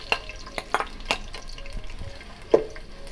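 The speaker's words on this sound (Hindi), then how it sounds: "इसके बाद हम इसके अंदर प्याज डालेंगे।" Chopped onions for chicken achar gosht go into a hot pan and fry, with a low sizzle under several sharp clicks and scrapes of a utensil against the pan, close up and with no voices.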